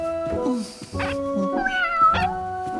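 Cartoon cat meowing in several drawn-out, wavering calls, close and fairly loud, with a voice and background music around it.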